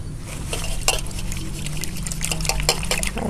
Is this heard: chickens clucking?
no